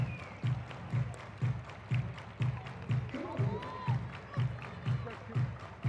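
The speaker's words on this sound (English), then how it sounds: "Everybody clap your hands." A softball stadium crowd at a women's pro game between the Chicago Bandits and USSSA Pride in Round Rock claps hands in a steady, evenly spaced rhythm, loud and continuous, under a commentator's voice and general crowd noise.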